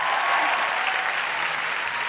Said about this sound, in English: Round of applause for them both